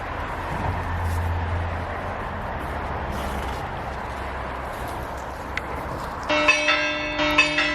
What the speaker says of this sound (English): Sorry for the bells. We got a church nearby and it's Sunday today.